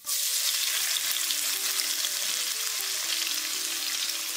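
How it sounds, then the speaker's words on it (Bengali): Chopped onion drops into hot oil left from frying hilsa fish, bursting into a loud, dense sizzle right at the start that holds steady and close throughout, with a faint tonal hum underneath and no speech. "প্রথমে দিয়ে দিচ্ছি পেঁয়াজ কুচি, আর এখানে আমি 1/2টা পেঁয়াজ দেব।"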